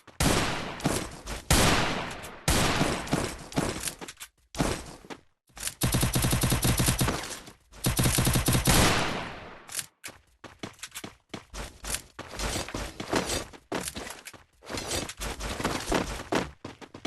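Loud, close gunfire in the Free Fire video game during a ranked Clash Squad match, rapid automatic bursts and single shots in clusters broken by short silences, with footsteps between volleys.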